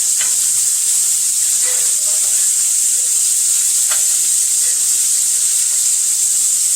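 Steady, loud sizzling of shrimp frying in a hot pan, a constant bright hiss with a few faint clinks and stirring sounds.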